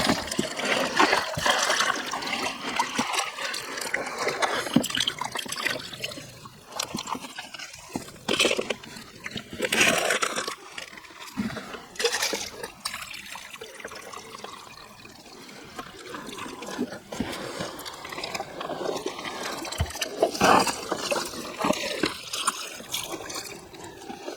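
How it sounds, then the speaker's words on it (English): A gold pan is swirled and agitated in river water while panning, producing irregular close sloshing and splashing in bursts over a long stretch, with no talking. "We are panning. There you go, agitate it."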